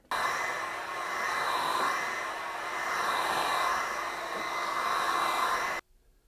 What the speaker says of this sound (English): I'm going to warm that up with a heat gun